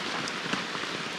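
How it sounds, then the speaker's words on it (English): Raindrops pattering on a hammock tarp in a mountain backpacking camp, a soft continuous patter with a few sharper drop taps, close and fairly quiet with no talk. "I'm gonna sit under here, listen to raindrops"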